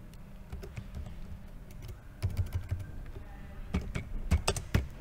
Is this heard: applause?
no